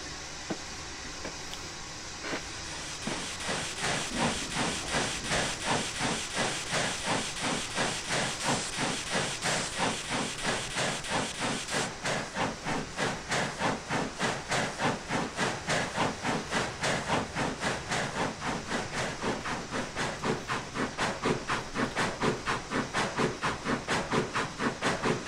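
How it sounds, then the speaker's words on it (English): 14XX steam locomotive by VictoryWorks in Train Simulator on the GNoSR Lines: a steady hiss of steam, then a loud, evenly spaced chuffing exhaust beat that keeps up without pause, with no voices. "Lovely loco, this. This is the 14XX by VictoryWorks."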